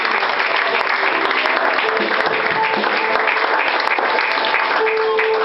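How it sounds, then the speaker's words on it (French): A congregation at an evangelical church service in Le Mans claps in sustained, even applause that fills the room from start to finish, with faint voices mixed into the clapping. "Est-ce qu'on peut acclamer pour le"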